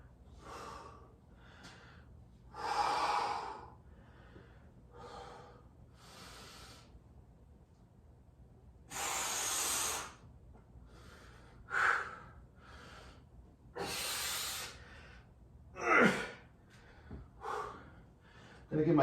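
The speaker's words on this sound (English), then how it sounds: "As you can see, I'm already breathing heavy." Heavy, labored breathing after a set of pull-ups, with loud gasping breaths and snorting exhales in irregular bursts, close to the microphone, with quiet pauses between.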